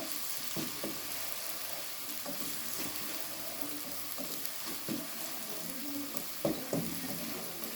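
Chopped medium onion frying gently over low heat in a pan while making qeema with shimla mirch, a steady close sizzle with occasional stirring scrapes.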